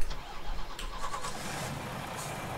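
A truck engine in Farming Simulator 19 starts up and settles into a rough, steady mid-pitched idle, close and loud with no talk.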